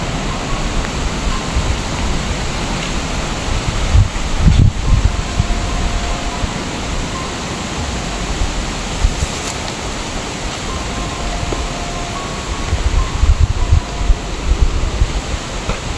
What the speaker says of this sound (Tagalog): Baka Malakas ng hangin. kung nga bro, sobrang lakas oh.